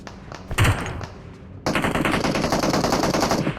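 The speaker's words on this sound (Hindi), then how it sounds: "आगे से फायर आ रहे थे" Rapid automatic gunfire in a shooting video game, with a short loud burst followed after a pause by a sustained, dense stream of shots that runs to the end.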